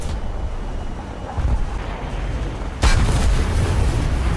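Bomb explosions in War Thunder combat flight sim: a low rumbling roar swells around 1.4 s, then a sharp broadband blast hits near 2.8 s and leaves a heavy, sustained rumble with no talk.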